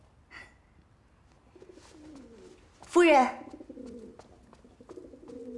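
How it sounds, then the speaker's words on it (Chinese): Pigeons coo in low, soft, rolling bursts, joined by a brief sharp flutter or call midway, while a voice speaks quietly nearby. "鸽子。"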